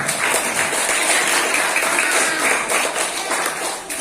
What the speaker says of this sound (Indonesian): Tepuk tangan untuk Al ya.